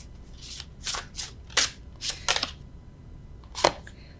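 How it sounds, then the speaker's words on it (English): Crisp bursts of tarot cards being shuffled by hand, not riffled, several quick rustling strokes in irregular rhythm, close and fairly loud with no talking. "Normally I riffle shuffle, but I don't feel like it."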